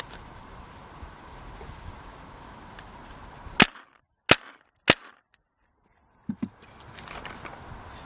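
Several sharp paintball marker shots through the stock barrel, spaced about a second apart: a cluster of three, then two more, with quiet background hum between.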